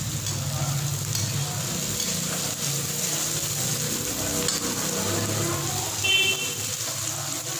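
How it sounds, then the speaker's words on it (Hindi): Onions roast for veg biryani in a pan on a gas stove, a continuous close sizzle and hiss that holds steady throughout with faint stirring noises. "दो मिनट के लिए इसे रोस्ट करूँगी ताकि इसमें हल्का सा जो इसका पिंक कलर है वो आ"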